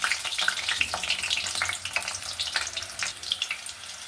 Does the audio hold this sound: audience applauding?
no